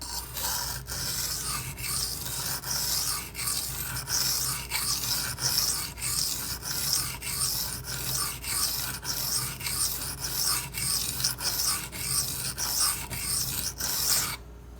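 Benchmade 9400 knife blade drawn across a Shapton Glass sharpening stone: rhythmic, repeated gritty scraping strokes roughly every half second, close and fairly quiet, steady throughout with no voices.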